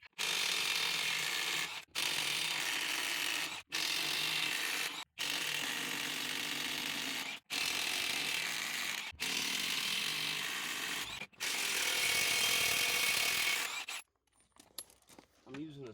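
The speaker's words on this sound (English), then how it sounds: "I'm using a snap-on 33mm socket" Snap-on 33mm socket on an air ratchet or impact tool loosening nuts on a semi truck wheel, loud close bursts of rapid mechanical rattling in seven separated runs, then quiet handling clatter.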